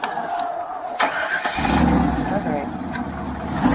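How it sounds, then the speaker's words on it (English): A pickup truck engine cranks and catches partway through, then settles into a steady low idle rumble, with a person speaking briefly over it. "Dustin gets into his pickup truck."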